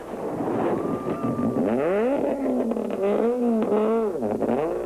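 A rally car at the 2006 Sasol Rally, on a short stage outside Sabi: the engine revs climb loudly and close, briefly drop at a gear change, then rise and fall again under a steady whir of wind.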